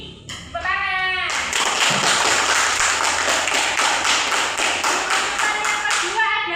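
Schoolchildren in a classroom break into lively clapping after a brief spoken announcement, a dense burst of close, sharp claps lasting several seconds before a voice resumes.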